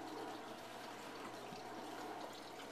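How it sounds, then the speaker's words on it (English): Water drains from a running dishwasher into a household sink, a faint, steady gurgling rush that continues evenly throughout. "The water is draining from the dishwasher."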